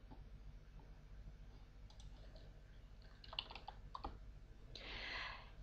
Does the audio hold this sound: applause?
no